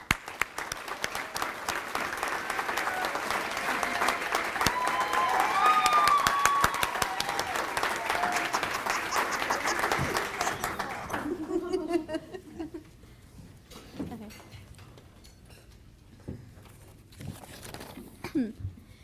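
Audience applause at a Jaycees scholarship reception greeting a student speaker at the podium, a dense steady clapping from a roomful of people for about eleven seconds before fading into scattered claps and quiet room sounds.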